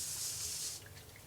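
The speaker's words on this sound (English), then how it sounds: "I just grab my piece of paper to put on the back to cover my surface, and then I grab some spray starch" Spray starch hisses from an aerosol can onto faux flowers for about a second in one short, close burst, then stops, leaving faint room sound.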